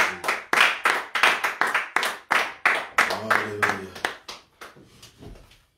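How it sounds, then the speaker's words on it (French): A church congregation claps along in a steady, rhythmic beat, loud and close, while a voice briefly sings in the middle and the clapping thins out toward the end. "Est-ce qu'on peut applaudir pour Jésus?"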